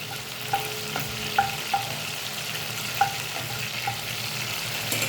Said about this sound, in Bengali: আর 4টে লবঙ্গ দিয়ে এটা একটু হালকা নেড়ে নেব।